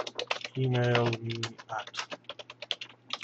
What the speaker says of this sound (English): I can type in